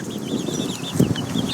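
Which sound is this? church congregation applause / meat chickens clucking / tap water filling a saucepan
meat chickens clucking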